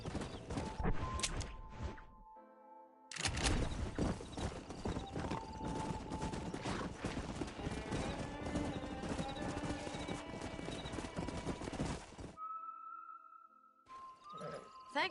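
Horses in the game Red Dead Redemption gallop and neigh, with dense rapid hoofbeats and whinnies broken by short gaps and scattered gunshots.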